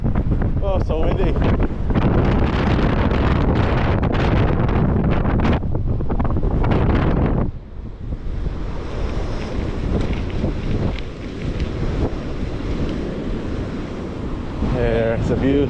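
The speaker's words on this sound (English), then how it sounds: "So windy." Strong coastal wind at Pacifica, California roars and buffets the microphone in a loud, unbroken rush, easing slightly partway through, with ocean surf beneath and brief talk.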